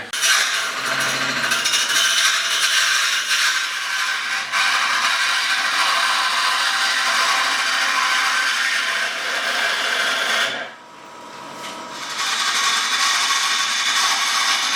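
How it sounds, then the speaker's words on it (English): A resin and acrylic tube blank spins on a wood lathe as a tool cuts it, giving a loud, continuous scraping hiss that briefly drops off near the end before resuming. "I think this turning's going to be a real slog fest."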